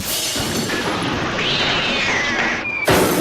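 A cartoon cat meows in a scene from the animated series ReBoot, a fairly loud, drawn-out cry rising and falling over busy soundtrack noise, ending with an abrupt louder burst.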